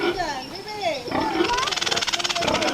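A very large pig tied up for slaughter squeals and grunts loudly in harsh, wavering bursts close by, rising into rapid pulsing squeals toward the end.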